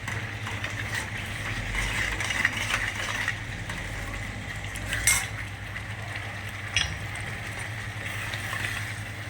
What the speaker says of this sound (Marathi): 2 ते 3 मिनटं मसाला त्याच्यात परतून घ्यायचा.